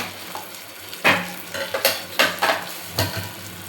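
Onions and cabbage fry in a pan while a utensil stirs them, giving a soft sizzle broken by several sharp scraping strokes in an uneven rhythm, close and without talk.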